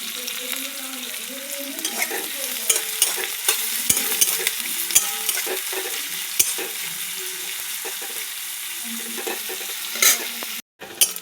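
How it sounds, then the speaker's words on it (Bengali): Chopped onions and chillies frying in hot oil with five-spice tempering, a loud, close, continuous sizzle with repeated stirring scrapes of a spatula and a short silent break near the end. "এবার দিয়ে দেবো কুচানো পেঁয়াজ,"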